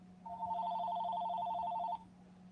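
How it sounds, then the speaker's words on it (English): A telephone rings with a single electronic trill lasting about two seconds over a low steady hum, then stops. "It's just going to keep on ringing."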